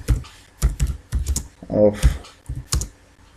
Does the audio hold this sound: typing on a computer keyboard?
yes